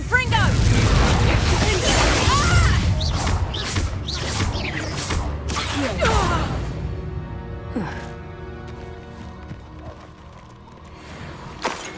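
The Confringo spell is cast in Hogwarts Legacy, with a loud burst and rumbling blast among mechanical clanks and game music, fading to quieter tones over several seconds while voices talk over it.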